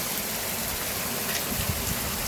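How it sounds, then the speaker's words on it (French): Heavy thunderstorm rain in Montady pours in a dense, steady hiss, drumming on surfaces with occasional low thuds, continuous and fairly close. "Les intensités de pluie sont très intenses là"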